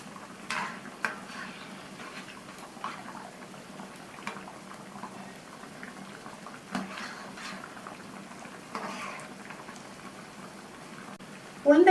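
Rava vadai fry in hot oil over a medium flame, a soft continuous sizzle broken by occasional utensil clinks and splashes as each one is turned, with talking in between.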